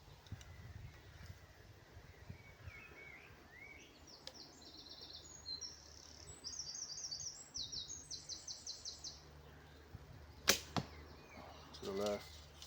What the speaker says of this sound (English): Getting a lot of noise from the arrow pass as well